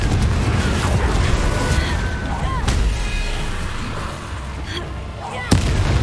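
The Confringo fire spell cast in Hogwarts Legacy lands as loud, repeated explosive bursts and crackling blasts over a continuous din of combat, with a sharp final bang near the end.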